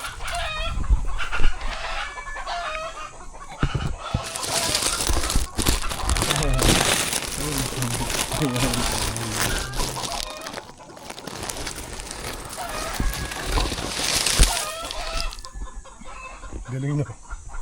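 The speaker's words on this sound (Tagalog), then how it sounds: "Oo nga po, nangingitlog pala yung manok. Kaya siya galit." A hen clucks loudly and agitatedly while laying eggs, in repeated bursts with a rooster crowing and other birds nearby, and people talk intermittently underneath.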